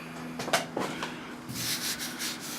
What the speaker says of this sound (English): I'm just going to have to sand it out to everything's even